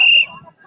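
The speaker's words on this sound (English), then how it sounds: "I don't see how that whistle's giving me an earache." A shrill, loud whistle blast at a street protest, brief and close, cut off after a fraction of a second, followed by faint murmuring.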